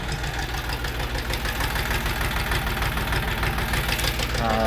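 A Kentavr 244 tractor's KM385 diesel engine idles steadily while warming up, with a low rhythmic knocking chug that stays constant and fairly loud throughout.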